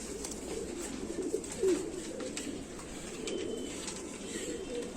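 Indian Rampuri pigeon cooing softly and repeatedly close by, low rolling coos over a faint background hiss, with no talking.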